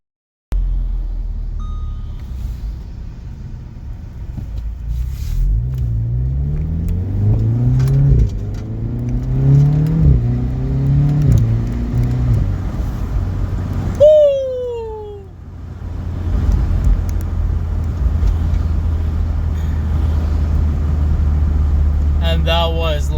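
A car fitted with a JB4 tuning module pulls away from a green light at half throttle, its engine note rising through several gear changes, loud and steady, with a brief chirp midway and a low drone throughout.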